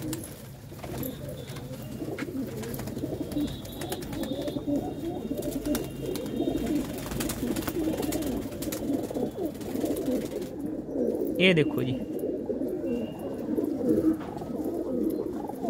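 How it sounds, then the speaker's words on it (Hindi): A golden pigeon with red eyes coos repeatedly among other pigeons at a bird market in Ludhiana, a steady layered murmur of low coos throughout, with a brief voice near the middle. "ये भी गोल्डन लाल अखां दा कबूतर है"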